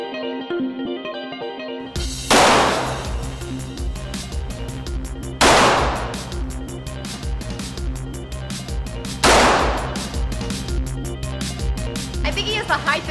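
Sharp gunshots from a Ruger Mark III target pistol with heavy barrel and adjustable sights at a shooting sports complex, three loud echoing reports spaced a few seconds apart over ongoing crackling background noise.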